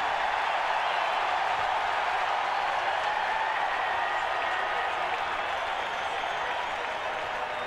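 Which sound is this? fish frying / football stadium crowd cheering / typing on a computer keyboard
football stadium crowd cheering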